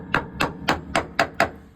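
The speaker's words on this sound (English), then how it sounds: "I've just been going around whacking it with a hammer" Hammer blows striking the frame of a 1990 Chevy K1500 pickup, the steel showing some internal rust: six sharp metallic whacks land about every quarter second, close and clear, with no talking.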